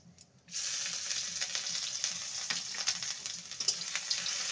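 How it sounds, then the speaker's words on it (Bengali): Ginger paste hits hot oil in a pan with bay leaf tempering and sizzles loudly right away, a close, steady crackling fry with stirring scrapes and no talk. "আদাটাকে ভালো করে কষিয়ে নেব।"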